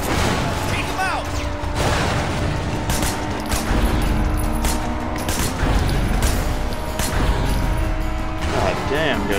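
Loud, rapid gunfire crackles almost without a break during a chaotic shootout in the video game Sleeping Dogs, and excited voices talk over the shots.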